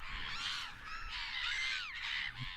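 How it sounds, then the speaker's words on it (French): Gulls cry in a raucous, rough chorus, overlapping harsh calls that rise and fall continuously over a steady outdoor background, fairly close and loud. "les mouettes émettent plutôt des cris rauques"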